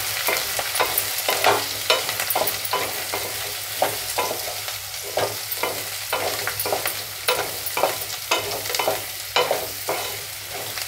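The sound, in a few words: stirring and frying raw papaya with fresh coconut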